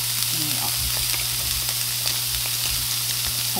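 Keto gimbap ingredients stir-fry in a pan with a steady, loud sizzle and scattered scraping stirs, with a constant low hum underneath and no talk.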